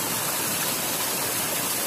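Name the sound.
waterfall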